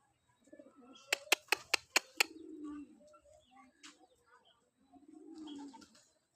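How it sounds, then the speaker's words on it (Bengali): Pigeons cooing on a pigeon farm, several soft low coos near and far with a brief burst of sharp rapid clicks partway through, and a voice talking quietly at the end. "এ হলো আমাদের কবুতর, কবুতরের ফার্ম।"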